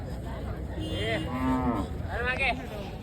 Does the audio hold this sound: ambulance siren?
no